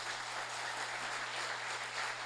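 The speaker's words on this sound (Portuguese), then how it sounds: "Aplaude a Jesus." A church congregation applauds, a steady wash of many hands clapping at once, even and sustained, at moderate distance with no voices over it.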